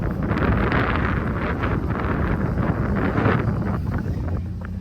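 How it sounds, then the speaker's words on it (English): Strong wind buffeting a microphone outdoors at a drag race event, a constant loud rumbling roar with gusty flutter and no clear speech. "very windy here, so I'm going to try to keep you inside as much as I can"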